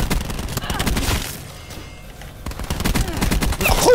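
Video game gunfire on the Slums map in a Kill Confirmed match, rapid bursts of automatic shots in two clusters with a short lull between them, while a player talks over them.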